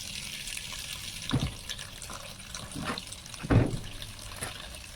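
A weak stream of tap water runs while papaya is washed in a sink, a low steady trickle with a few louder splashes and knocks, no talking.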